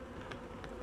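Honey bees buzz around the hive at about seven in the evening as night approaches, a faint, continuous low hum with slight rises in intensity over under a second, no voices present.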